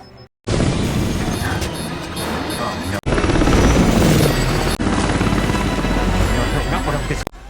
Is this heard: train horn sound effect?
no